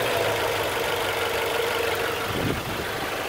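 A car engine idles steadily with a constant whooshing radiator fan running over it, close and continuous.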